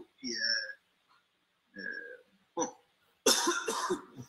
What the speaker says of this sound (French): Hey, il tousse!